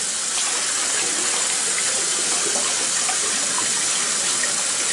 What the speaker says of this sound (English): And then you wash your dishes.